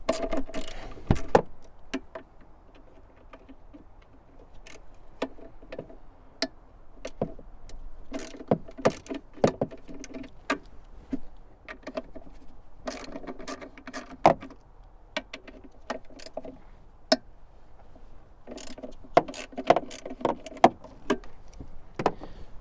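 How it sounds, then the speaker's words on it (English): A 3/8 ratchet fitted with a 10mm socket loosens the air box bolts on a car during an alternator replacement, producing sharp clicks and metallic ticks in irregular bursts, close up over a low background hum. "I'm going to use a 3/8 ratchet, and this is a 10mm socket"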